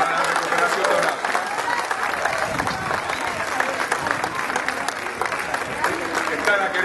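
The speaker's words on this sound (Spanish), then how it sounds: "un aplauso fuerte" A crowd claps steadily and strongly at an indoor gathering, continuous dense applause with scattered voices mixed in throughout.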